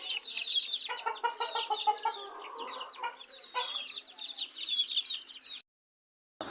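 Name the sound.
native chicken chicks clucking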